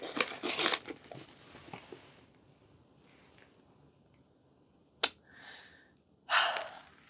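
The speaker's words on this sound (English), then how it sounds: "So let's peel that off because I don't feel like that's doing us any favors at this point." Old sphagnum moss being peeled away from an anthurium: dry crinkling and tearing bursts, loudest at the start, then quieter rustles with a sharp snap and a final crunchy rip, close up and with no talk.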